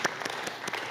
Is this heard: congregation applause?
yes